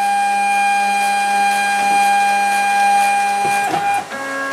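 A Sieg X2 mini CNC mill homes its axes, its stepper motors whining in steady sustained tones that shift in pitch as each axis moves, ending with a brief clunk and change of tone.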